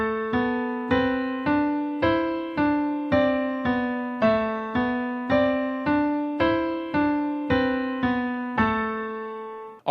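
Piano exercise with the left hand playing two notes for each right-hand note: a steady run of evenly spaced struck chords, each decaying before the next, clear and close with no talking.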